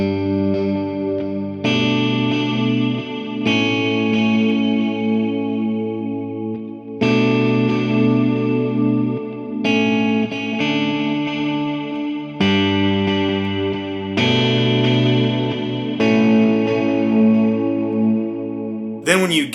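A clean electric guitar tone with dotted eighth delay and a long reverb tail rings out in slow, sustained chords for a worship song, each strum echoing and blooming into the next.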